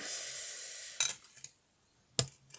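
Scissors snip small pieces of aluminium wire in two short, sharp metallic cuts about a second apart, close and clear against a quiet room.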